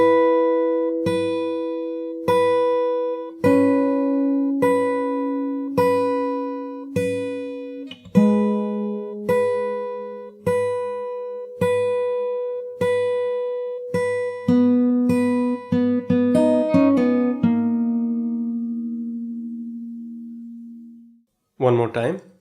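Guitar slowly picking the intro of a song, steady single notes and chords struck one by one at an even pace, close and clean, with a long ringing final note fading before a brief strum at the end.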